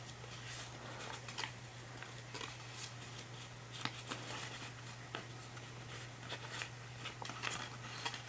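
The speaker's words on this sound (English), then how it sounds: "So fold that edge in and fold this up as well." Paper is folded by hand into an origami cat loaf. Soft, close rustles and light creases come in quick, irregular bursts over a quiet background.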